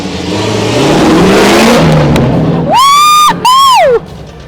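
A Wildcat rally car at a Dakar rally event passes loudly as a broad engine roar swells over about three seconds, then two sharp rising-and-falling tonal whines follow near the end, loud and close without speech.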